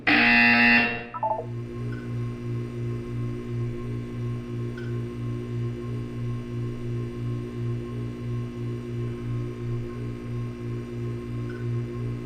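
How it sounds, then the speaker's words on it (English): In the video game Portal 2, a test chamber buzzer drones as a steady, evenly pulsing electronic tone that continues for many seconds after a brief louder burst at the start. "You will hear a buzzer. When you hear the buzzer, look up at the ceiling."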